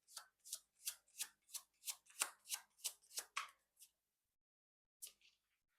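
Tarot cards are shuffled by hand in a steady run of about a dozen soft, rhythmic riffling swishes, close and quiet, then stop before one last brief card flick.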